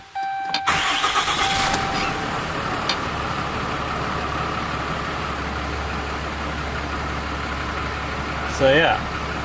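A 6.7L Cummins diesel pickup in a repair shop cranks briefly and fires up, then settles into a steady, loud, rumbling idle that continues to the end, with a short extra sound near the close.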